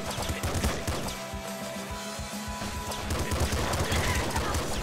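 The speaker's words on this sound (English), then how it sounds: "Dudes are shooting at inconvenient moments." Enemy gunfire in the video game Nuclear Throne, a steady stream of rapid shots and impacts over game sounds, dense and continuous throughout.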